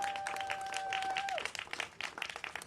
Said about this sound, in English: we shall all give him a little round of applause for that